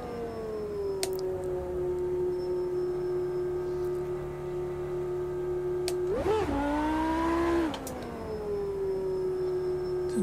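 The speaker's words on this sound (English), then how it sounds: "The sound of a screaming V10." A screaming V10 race car engine in the sim racing game Automobilista 2, holding a high steady pitch, then a sharp rev surge and shift before settling back, loud and continuous.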